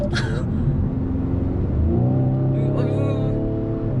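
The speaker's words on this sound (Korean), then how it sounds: "이거 배기 사운드가 굉장히 아날로그적으로 멋있네요" A Hyundai Veloster 1.6 turbo's exhaust note rises as it accelerates, a low harmonic growl swelling steadily, with people talking over it throughout.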